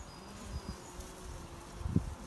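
Honeybees in a hive during a nuc transfer, a faint steady buzzing drone with soft thumps and rustling from nearby handling, quiet and close.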